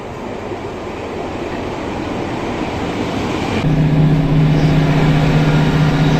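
A passenger train rides along the seafront from Dawlish to Exeter, heard from inside as a loud continuous rumbling roar that swells midway, joined by a steady low motor drone.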